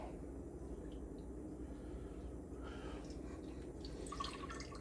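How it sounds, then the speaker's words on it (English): Water dripping and trickling from handfuls of squeezed shredded potatoes for hashbrowns, a faint steady patter over a low background hum. "Try to get as much water out of them as you can."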